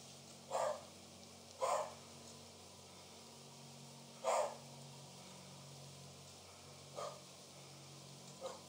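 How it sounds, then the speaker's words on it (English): Dogs in the video game Slender's Woods bark in scattered single yaps, five short barks spaced irregularly and moderately distant over a quiet steady hum. "And then one barks and they all start barking."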